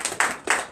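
Congregation at a morning prayer service in Comè, Benin, clapping in time: two firm, close claps about a third of a second apart, with no voices.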